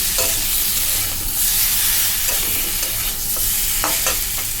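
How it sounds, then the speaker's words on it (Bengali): Egg curry sizzles and fries in a pan, a dense steady hiss with a few scraping stirs toward the end, loud and close with no voices. "এখানে আমি এই যে ডিমের তরকারি হচ্ছে"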